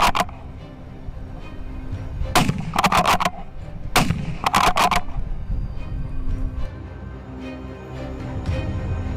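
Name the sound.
rifle gunshots while hunting wild boar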